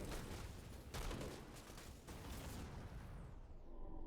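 Mech weapons in Phantom Brigade keep up a dense, continuous barrage with heavy rumbling booms and bursts of crackle, easing slightly near the end.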